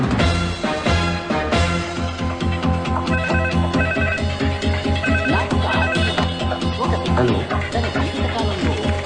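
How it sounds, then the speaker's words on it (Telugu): A phone in a Telugu comedy film scene rings with a repeating electronic melody, loud and close and lasting several seconds, with faint background sound beneath. "నీకు ఫోన్."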